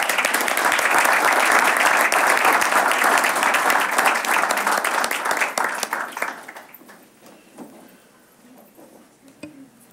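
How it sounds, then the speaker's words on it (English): An audience at a school board meeting gives a big round of applause that holds strong for about six seconds, then thins to scattered claps and fades out. "Please, another round of applause for these guys."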